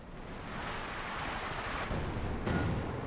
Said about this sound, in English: most of the rockets are spectacularly missing